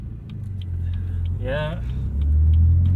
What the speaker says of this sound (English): This thing sounds so nice. I really dig the noise this car makes from the cabin.